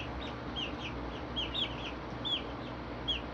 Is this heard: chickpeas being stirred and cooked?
no